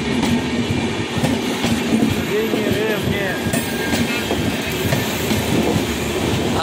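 The Avadh Express, an Indian passenger train, rumbles steadily along the rails with a continuous close roar and rhythmic wheel clatter, some faint squeals, and murmuring voices in the background.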